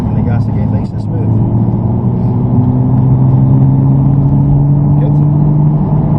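A Nissan GT-R's engine pulls hard on a racetrack, its rising drone climbing steadily and loud throughout, with a driver's brief remark over it.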